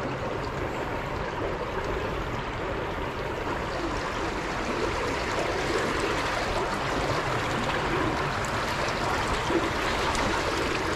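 Water rushes steadily through a clogged culvert holding back a large volume of water, a continuous, close, full-bodied gurgling flow with no voices.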